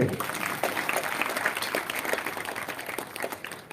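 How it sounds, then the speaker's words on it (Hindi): Audience applause at a spiritual discourse, a steady wash of clapping running continuously throughout, moderately loud, with faint voices mixed in underneath. "ये बात भी वैसे ताली बजाने योग्य है"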